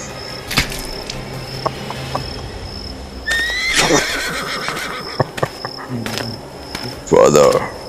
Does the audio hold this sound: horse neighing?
yes